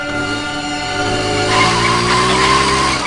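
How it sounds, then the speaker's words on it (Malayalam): An animated scooter revs and skids, a loud whining engine tone rising in pitch before a harsh tyre squeal takes over, close and unbroken, with no talk over it. "ആ ആക്സിലേറ്ററെ പതിയെ ഒന്ന് തിരിക്കും"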